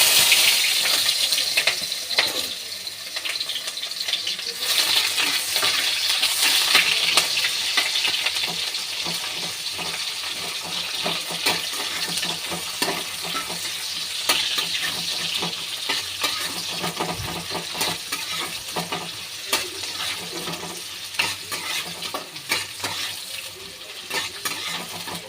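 Raw onion frying in a kadai makes a steady, dense sizzle up close, with occasional stirring scrapes and light crackles throughout and no talking.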